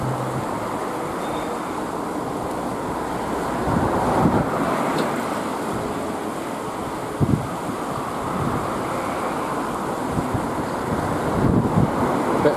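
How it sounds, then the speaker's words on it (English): Steady wind blows across Lac Serre-Ponçon on a blustery day, a broad continuous roar buffeting the microphone with a few stronger gusts and no talk over it. "it's actually quite a windy day today. See, quite blowy."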